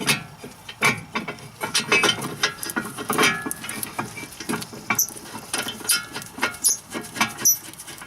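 A ratchet clicks and turns in quick irregular bursts, close by, as brake caliper bolts are tightened on the front brakes of a BMW E36 3 Series during a pad and rotor change, with no talking.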